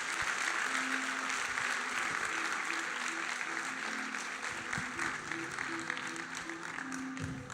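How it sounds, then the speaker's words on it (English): A conference audience claps steadily throughout, a dense mid-size round of applause with a faint sustained tone underneath, holding at even loudness before tapering slightly at the close. "So I'd love for you to give a round of applause for these 3 rock stars, Soph, Beck and Renee."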